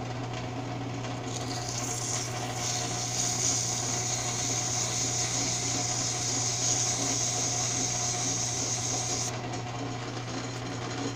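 Fine sandpaper on a rotating arm polishes a mechanical diesel injector nozzle to remove carbon, giving a steady, continuous whirring scrape with a hissy, high rasp that holds for about eight seconds and then drops away.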